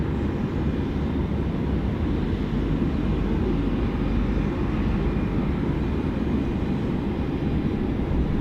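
A jet airliner taking off at Sydney Airport, a broad, steady engine roar heard from a distance and holding the same level throughout, with no voices.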